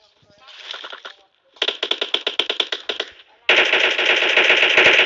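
Rapid automatic gunfire in a video game, bursts of machine-gun fire starting faint, then a loud burst of distinct shots, then a sustained dense stream of fire, loud and close.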